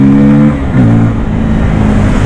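A 2024 Bajaj Pulsar N250 motorcycle pulls hard in second gear on a street, its engine note loud and close, with a pitch that climbs then dips as it shifts and keeps revving.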